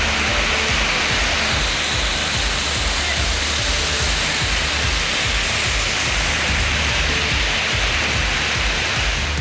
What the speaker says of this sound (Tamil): செங்கல்பட்டு மற்றும் அதன் சுற்றுவட்டார பகுதிகளில் நள்ளிரவில் கனமழை பெய்தது.